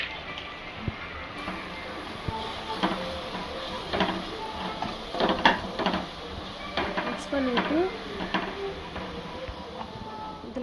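Mutton head curry stirred in a pot over a low flame, a busy run of scraping, clinking and wet sloshing strokes, close by, with a voice talking over part of it.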